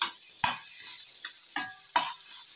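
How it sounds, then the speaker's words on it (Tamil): Vegetables for a veg kothu parotta fry in a pan, with a soft hiss under four sharp scraping stirs against the metal, spaced unevenly and close by; no one talks. "நல்லா வெஜிடபிள்ஸ் நல்லா ஃப்ரை ஆகட்டும்"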